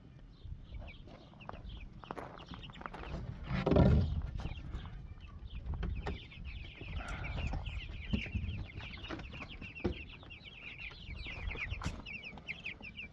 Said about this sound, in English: There they are, the second batch of broilers.